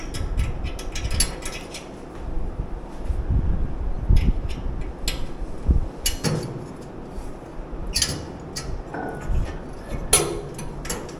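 Metal clinks, taps and small scrapes as a cotter pin is fitted through holes during assembly of a Traeger Flatrock griddle, irregular and close, with no speech.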